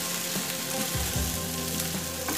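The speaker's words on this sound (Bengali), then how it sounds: "এবার আমি সয়াবিনগুলো দিয়ে দিচ্ছি। এটাও খুব ভালো করে কিন্তু আমি ভেজে নেব" Boiled soybeans frying in a pan, a steady close sizzle with a couple of soft thuds and stirring scrapes, moderately quiet and without speech.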